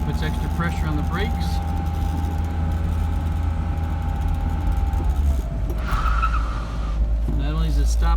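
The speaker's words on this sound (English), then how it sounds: "Now we're going to do a panic stop down here with the hand off the steering wheel, cold brakes." A Mercedes 190SL making a hard panic stop downhill on cold brakes, a long, steady tire squeal over engine rumble that shifts pitch near the end as the wheels lock, with a voice briefly heard.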